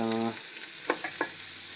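Vegetables for butternut squash soup sautéing in olive oil in a pot: a quiet, even sizzle with a few soft stirring clicks, after a brief tone at the start.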